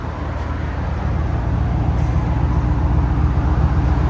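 A 2009 Toyota Tundra 5.7L V8 with X-pipe and Carven TR Series exhaust idles with a deep, steady rumble and low throaty tone, close and unchanging throughout.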